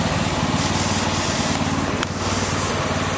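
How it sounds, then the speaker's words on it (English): A tow truck engine turns over and settles into a loud, close, rough idle with a steady rhythmic chug, and one brief click partway through. "Now to fire up the tow truck"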